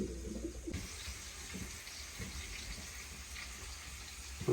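Soft, low pigeon coos repeat faintly against a steady background hiss, with no one talking; pigeons for sale.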